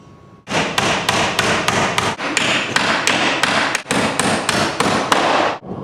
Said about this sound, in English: Lift it up to the top and nail it on.